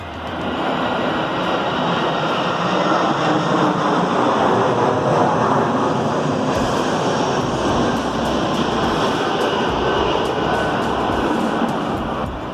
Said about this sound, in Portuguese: tá passando outro avião